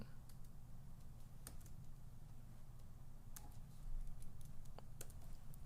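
Keys tapped on a computer keyboard while writing code, faint, scattered clicks at an uneven pace over a steady low hum, with no voices.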